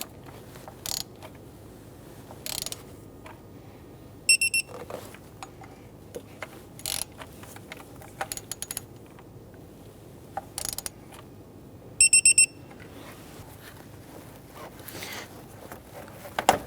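A torque wrench ratchets as bolts on the thermostat housing of a 2011-2021 Jeep Grand Cherokee are tightened, giving short bursts of rapid clicking and scattered single ticks against quiet workshop background.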